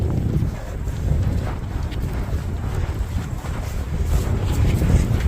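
Strong wind sweeps across a frozen, snow-covered lake, a loud, continuous low roar that buffets and swells, with no speech over it.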